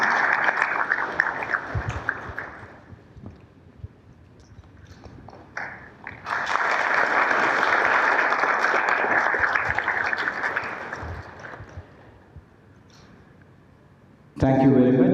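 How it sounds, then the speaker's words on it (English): Audience applause at the inaugural session of a sesame conference, a broad wash of clapping that swells loud for several seconds, fades low, then bursts back near the end. "A big round of applause."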